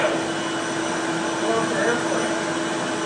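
A small handheld mini vacuum cleaner runs steadily, giving a constant whirring motor drone with an airy hiss, close and fairly loud throughout with no break.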